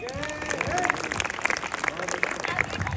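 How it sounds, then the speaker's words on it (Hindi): Sustained audience applause at a Republic Day (26th January) celebration, dense continuous clapping from a crowd that fills the whole stretch, with a voice briefly heard over it. "जोरदार तालियां"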